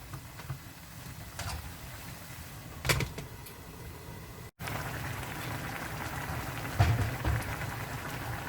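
Pork neck, potato, zucchini and onion stew bubbling in a pot, a continuous close simmering hiss with soft popping bursts and a brief break midway.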